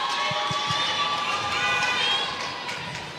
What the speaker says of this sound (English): And the crowd here at the Brian Group Arena going wild at the moment.